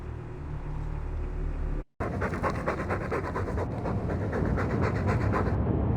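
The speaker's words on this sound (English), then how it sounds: "All that noisy dog breath, day in, day out, make him stop." A dog pants loudly and steadily in the video game Dragon Age II, rapid rhythmic breaths filling the scene, broken by a brief silent gap before the panting resumes.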